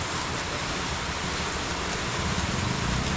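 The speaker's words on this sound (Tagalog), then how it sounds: "Yung ulan lang. Pagpahila-tila ng konti." Steady rain pours at a car wash and precast concrete work site, a dense, even hiss that fills the whole stretch without pause and with no one speaking.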